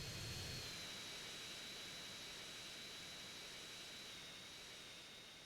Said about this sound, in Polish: samolot pasażerski